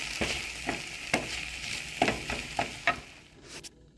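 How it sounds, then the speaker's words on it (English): Garlic sizzles steadily in a pan, a soft continuous fry punctuated by a few sharp stirring scrapes, close and fairly quiet with no talking. "after it's kind of started to sizzle a little bit,"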